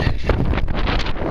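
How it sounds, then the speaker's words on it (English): Strong outdoor wind on a cold, gusty day buffets the microphone in a loud continuous rumble and roar with no speech. "It just got too windy."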